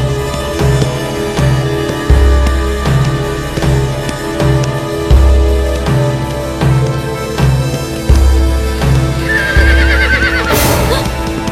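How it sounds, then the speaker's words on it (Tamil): A horse approaches in a film scene, its hooves beating a steady clip-clop rhythm against a loud musical backing, with a brief whinny near the end. "குதிரை வர சத்தம் கேக்குதுடி."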